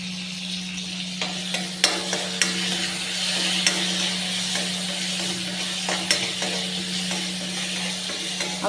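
Leaves sizzle in hot oil in a pan, a soft continuous frying hiss over a low hum, broken by sharp scraping clicks from a utensil stirring at irregular intervals.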